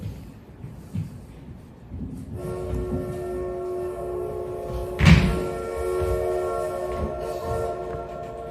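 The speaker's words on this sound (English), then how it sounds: "Damn you, train!" A train passes on a railroad trestle, a steady rumble with a sustained horn tone and a sharp clank partway through, heard at moderate distance.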